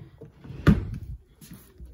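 A dresser drawer in a bedroom slides open or shut with a single soft thud and scrape near the middle, fairly close and moderately loud, with quiet room tone around it.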